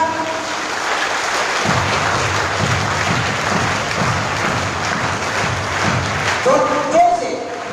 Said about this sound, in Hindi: जैसे मेरा 3 समाप्त तो आप तालियां बजाएंगे।